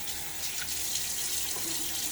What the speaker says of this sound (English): little water on my face again.